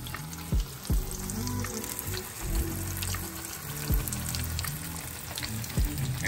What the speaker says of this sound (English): And this is a shallow fry too